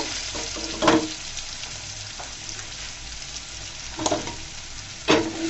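Potatoes with green chilies sizzle steadily in a hot pan, broken by three sharp scraping stirs of a spatula.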